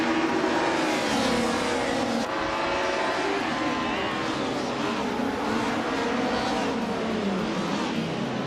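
A classic 1995 BMW M3 GT-R Evo and rival race cars roar through a video game race with a loud, continuous engine drone that rises and falls in pitch, joined by faint talking.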